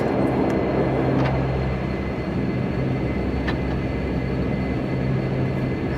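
A Flybe Dash 8 DH8D turboprop taxiing in Flight Simulator X gives a continuous, steady engine hum and hiss with a faint tonal whine, loud and unchanging, with no talk.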